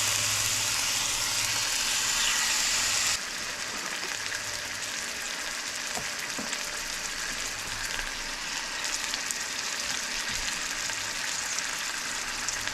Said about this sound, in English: It is sizzling, so I'm just going to go ahead and place the fish skin side up in the skillet.